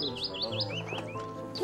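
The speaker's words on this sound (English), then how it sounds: "Gosh, listen to the willow warbler singing this morning." A willow warbler sings on a spring morning outdoors, its repeated descending whistled phrases coming close and clear in a steady series, with other birds faintly in the background.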